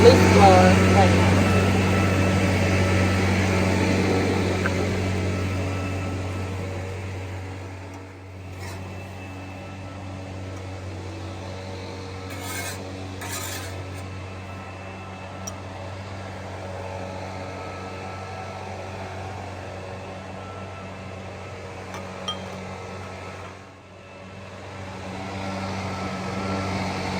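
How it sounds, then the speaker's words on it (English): A leaf blower runs outside with a steady mechanical drone and low hum throughout, dipping briefly twice; a voice talks over it. "They're using a leaf blower right now."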